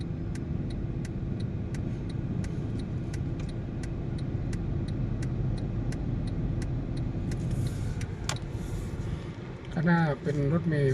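Steady road and engine rumble of a city bus travelling on a Bangkok-area road, constant and fairly loud throughout, with faint ticking and a brief clatter near the end; a voice speaks under the noise.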